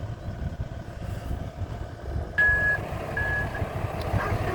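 A dump truck reversing up a ramp at a newly dug pond beside a Kobelco SK140LC-11 excavator, its reversing alarm sounding a couple of short beeps over a constant rumbling diesel engine.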